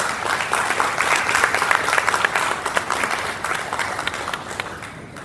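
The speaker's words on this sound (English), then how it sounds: "Give him a round of applause." Audience applause at a corporate event on blue-collar employee welfare and productivity, a steady dense round of clapping from a room full of people, loud and sustained before tapering slightly at the end.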